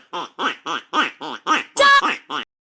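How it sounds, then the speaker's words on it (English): Nine loud, close duck quacks come in a steady rhythm, evenly spaced and nasal, the second-to-last one longer and harsher before a final quack and silence. "Duck."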